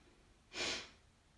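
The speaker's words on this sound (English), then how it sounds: "draw belly in and up sharply so the air comes sharply out through the nose." One sharp, forced exhale through the nose as part of a yogic breathing exercise, a brief, close breathy burst lasting under half a second, heard alone.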